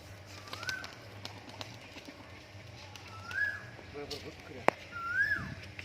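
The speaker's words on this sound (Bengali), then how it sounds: "দেখো কত বাচ্চা পায়রা আছে, দেখো" Young pigeons of a hand-flown kabutar breed in Murshidabad give a few short, rising whistled chirps at moderate volume, spaced apart over a low steady hum, with faint talking in the background.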